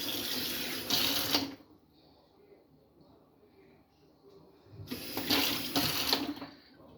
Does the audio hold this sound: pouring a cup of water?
yes